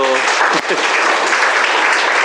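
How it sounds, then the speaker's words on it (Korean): Loud, steady applause from a crowd fills the whole stretch, dense clapping with a brief voice at the start. "박수 쳐주세요."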